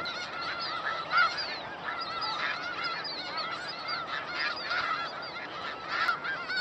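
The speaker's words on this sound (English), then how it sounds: "We've just seen a huge flock of geese." A large flock of geese honks continuously, many overlapping calls layered into a dense, loud chorus with no pauses.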